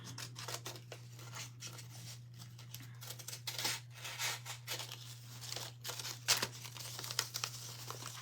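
Scissors snip through a piece of fusible webbing with repeated close, crisp cuts and light crinkling of the material over a steady low hum, with no talking.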